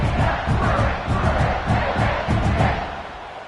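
A stadium crowd at a football game roars and cheers steadily during a kickoff after a scoring drive, a loud, dense wall of voices with rhythmic surges, no individual speech standing out.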